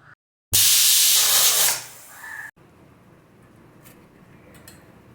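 A medium-sized pressure cooker cooking mutton gives a loud, sudden burst of steam hissing that lasts about a second before tapering off, followed by quieter kitchen background.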